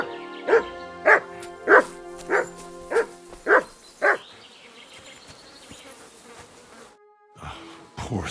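Mutt the dog barks in Kingdom Come: Deliverance II, seven evenly spaced, fairly loud barks in quick succession, followed by quieter ambient game sound.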